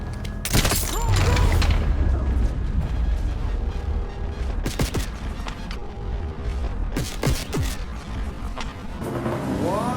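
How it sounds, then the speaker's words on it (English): Automatic gunfire in Call of Duty Black Ops 6 at nearly point-blank range, with loud broadband bursts and booming impacts over a rumbling game soundscape, with no talk. "They shoot him nearly point blank with automatic weapons, and he is totally unharmed"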